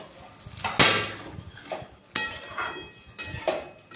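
A spatula scrapes and clanks against a pan of frying vegetables on a gas stove, followed by a lid being set on, giving several sharp metallic knocks and clinks spaced across the clip.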